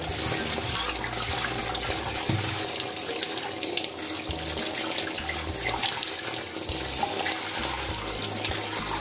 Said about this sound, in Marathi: तोपर्यंत मासे धुवून घेणार आहे.